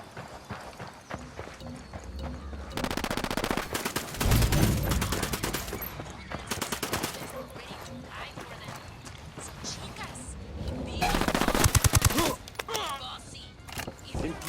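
Gunfire in the tactical shooter Ghost Recon Wildlands: loud bursts of rapid shots break out repeatedly across the scene, with quieter stretches between and voices talking over the action.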